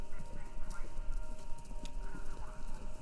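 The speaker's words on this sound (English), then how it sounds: "Sounds like horses. Horses running a race?" Horses gallop in the video game Kentucky Route Zero, a steady clip-clop of many hooves drumming together at moderate loudness, with faint tonal hum behind and no talk.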